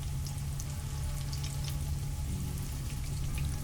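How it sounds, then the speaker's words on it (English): Potato röstis fry in hot oil, a steady dense sizzle and crackle running without pause, close and fairly loud with no talk. "we're going to put our Röstis into the hot oil"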